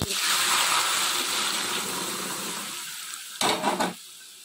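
Dal water poured into a hot pan of tempered chillies, mustard seeds, cumin and fenugreek for drumstick-leaf sambar bursts into a loud hissing sizzle that slowly fades, followed by a short clatter of utensil against the pan.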